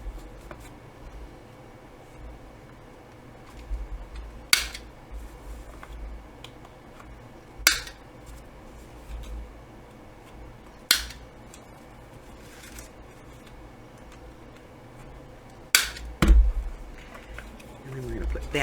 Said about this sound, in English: I'm going to round the corners on this one.